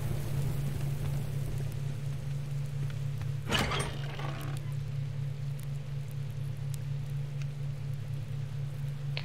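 A soft, steady patter of rain falls in a survival video game, a constant background hiss with a steady low hum beneath and one brief louder rustle partway through.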